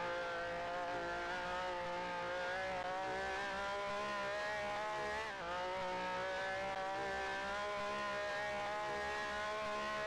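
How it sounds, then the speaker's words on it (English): Race car engine in a sim racing game, running rough as if low on fuel, drones at a steady high pitch for the whole stretch with a brief dip midway, loud and unbroken. "The engine does not sound healthy."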